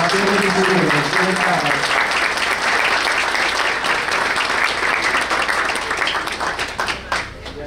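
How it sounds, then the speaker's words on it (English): A school district board of education meeting audience applauds its top ten students of the year with loud, sustained clapping from many hands that holds steady and then thins toward the end, with a voice briefly heard at the start. "How about another round of applause for the top 10 of the year?"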